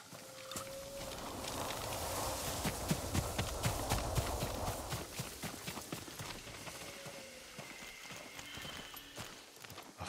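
Horse hooves clip-clop at a steady walking rhythm in Ghost of Tsushima, moderately close over a soft ambient bed, with no talking.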